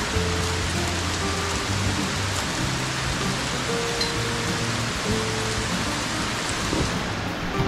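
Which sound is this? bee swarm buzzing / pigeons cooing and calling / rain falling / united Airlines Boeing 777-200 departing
rain falling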